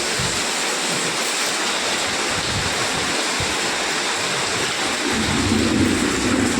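Heavy rain pours down steadily on a rooftop, a dense and continuous hiss with a low rumbling undertone that swells toward the end, and no voices.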